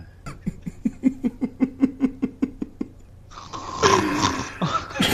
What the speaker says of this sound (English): I still snore like a man.